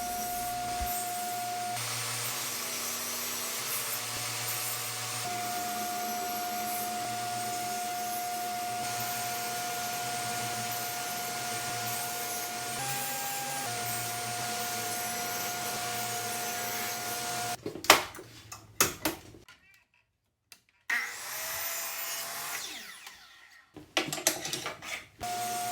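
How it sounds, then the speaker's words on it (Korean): Selected wooden boards are cut to size for a birdhouse with a steady droning power saw or machine hum that shifts pitch slightly, then gives way to intermittent scraping, clunks and short handling noises. "선별된 목재들로 시수에 맞추어 열심히 자릅니다"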